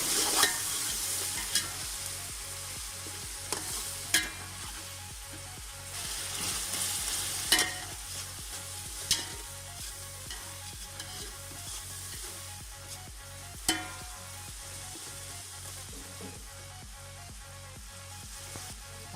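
Salt and fennel seeds are stir-fried in a pot, giving a steady soft sizzle broken by rhythmic scraping strokes of a spoon and occasional sharper clanks, heard alone at a moderate, close distance.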